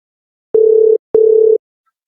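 A telephone line gives two evenly spaced, steady electronic tone bursts, each about half a second long, loud and clean with silence between, heard while a call is being placed.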